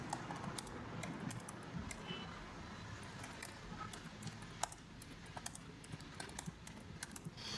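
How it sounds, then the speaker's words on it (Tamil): Typing on a computer keyboard while entering HTML code, with a steady run of light, uneven clicks and occasional sharper key strikes over faint room noise, heard alone. "இப்போ நான் ஜென்ரலாகவே டைப் பண்ணுறேன்."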